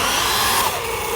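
Electric motor of a VRX RH818 Cobra RC truck whining at high revs, a steady, loud, close buzz with a slight pitch dip partway through, heard alone.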